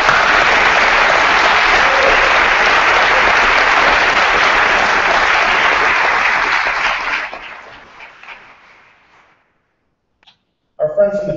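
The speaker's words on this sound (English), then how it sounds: "If we can just give them a round of applause for all of them." A large audience at a high school awards ceremony gives a sustained round of applause, loud and even for about seven seconds before fading to silence, then a voice starts.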